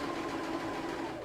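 Sewing machine running a locking stitch: a steady, even mechanical hum with a fast rhythmic whir, close and constant for a brief moment, with no voices.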